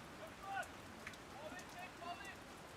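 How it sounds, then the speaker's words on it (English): Steady rain pouring down over an outdoor men's soccer match in Woodbridge, a faint continuous patter and hiss with scattered drop sounds and distant crowd or player noises. "The rain continues to pour down here in Woodbridge."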